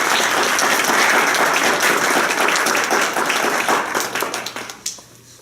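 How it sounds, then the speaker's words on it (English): A church congregation and panel audience give a full, dense round of applause that holds steady at close range, then thins into scattered claps and fades out near the end. "So how about a round of applause?"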